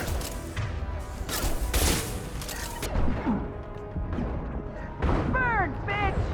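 Sci-fi gunfire in the video game Mass Effect 2 rattles in bursts and heavy impacts, with explosions and whooshing effects amid combat chatter from characters.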